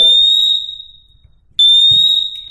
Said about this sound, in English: I have installed that smoke alarm.